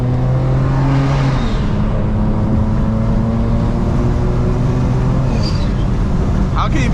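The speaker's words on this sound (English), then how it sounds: "how can you be chill when you got a car that sound like this?" A tuned stage 4 Dynamic Autowerx BMW 335i, rated 600+ horsepower, drones steadily on a highway with a loud, close engine tone that shifts pitch as it pulls, under constant road noise.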